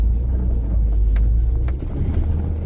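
Car engine with a manual transmission pulling uphill in first gear on a slippery road, a steady low rumble that holds loud and close throughout with slight swells as it climbs.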